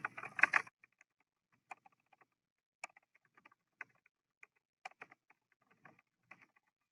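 Sparse, light clicking of keys on a computer keyboard, irregular single taps spread out over a quiet background, faint and close, after a brief louder burst at the start.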